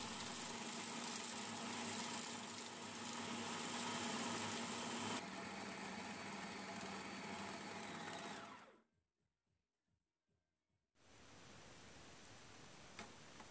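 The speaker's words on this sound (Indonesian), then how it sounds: "Lalu dihidupkan food processornya." Food processor blending ingredients with ice, a loud steady whirring drone that changes pitch midway, cuts off into near silence with faint clicks, then starts up again.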